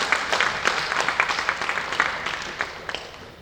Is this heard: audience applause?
yes